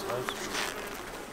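Honeybees crawling over a comb in a hive as they bring in fresh nectar, a soft continuous buzzing hum close by, with faint speech-like sounds underneath.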